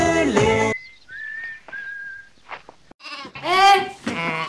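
Sheep bleating on a farm, a few short wavering calls alternating with brief whistles, close and fairly loud, with a voice heard at the start.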